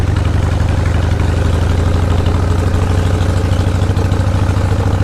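Harley 80-inch Shovelhead motorcycle engine running, a loud, steady, low pulsing rumble with constant vibration and no pauses or voices.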